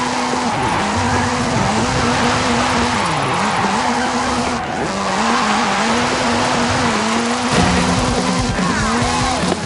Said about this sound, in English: Hooligan Gymkhana 10 Ford Focus RS RX. 2-litre, turbocharged, front-mounted engine and all-wheel drive.